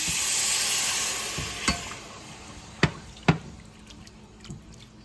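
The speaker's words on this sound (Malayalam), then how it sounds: "ഈ ഒരു സമയമാകുമ്പോഴത്തേക്കും നമ്മൾ അതിലേക്ക് ഒരു ഗ്ലാസ് വെള്ളം ഒഴിച്ച് കൊടുക്കുകയാണ്." Water is poured into sizzling chili masala in a pan for a Kottayam-style sea bass fish curry. A loud, bright hiss settles down, and a few sharp clinks and taps follow.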